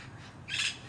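A green parrot gives a single short, harsh squawk that rises out of a faint outdoor background, brief and moderately close.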